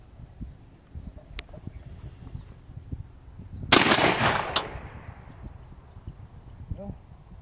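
A full-choke, AK-style semi-automatic shotgun fires outdoors at a target 40 yards away: one sharp, loud blast, then a quicker second report that trails off.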